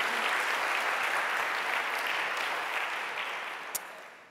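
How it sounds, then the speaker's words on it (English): Audience applause at a JavaScript conference talk, a dense steady wash of many hands clapping that tapers off slightly toward the end, with one sharp click near the close. "A round of applause."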